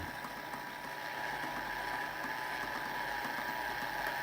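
The motor of a Polimer RPE-1M rotational viscometer runs steadily with a close, even mechanical whir and a faint ticking hum that holds its level across the few seconds.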